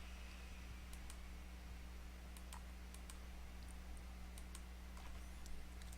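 Computer keyboard keys click in short irregular bursts, faint and close, over a steady electrical hum while typing into a web browser, with no talking.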